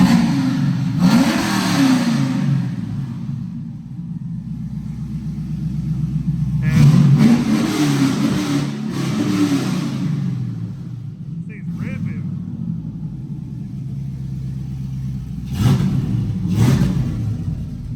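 A Nissan 240 drift car engine revs repeatedly at close range at Madera Speedway, rising and falling in rumbling bursts, with people talking over and between the revs.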